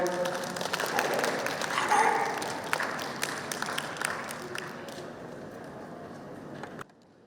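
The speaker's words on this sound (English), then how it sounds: "give a huge, huge round of applause for Iman Ahmed." An audience at a youth festival at Brac University in Dhaka claps and cheers loudly, with a few voices mixed in; the applause gradually thins out and stops.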